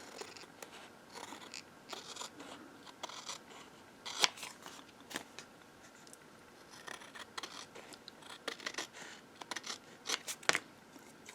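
Scissors snip paper for a handmade tag book, making a run of crisp, irregular cuts up close with small rustles between them.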